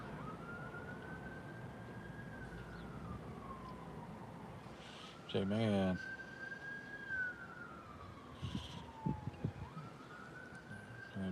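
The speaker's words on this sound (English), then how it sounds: "Some more police cars coming through there." A police car siren wails slowly up and down in the background, rising and falling twice over steady traffic noise, with a brief loud burst and a voice near the end.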